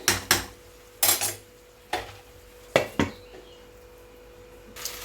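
Metal pot and lid clattering at a stove while cooking a vegetarian Malabar spinach dish, several sharp clanks spaced apart over a quiet background hiss.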